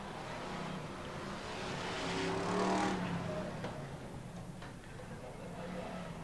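BriSCA Formula 1 stock cars racing at Skegness in 1994, a dense roar of several engines revving and passing, swelling loudest mid-clip, with faint commentary beneath.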